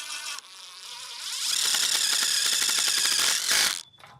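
Drill driving a self-tapping sheet metal screw into a metal greenhouse frame, a loud, close, steady high whine that ramps up and holds for a few seconds, then cuts off sharply.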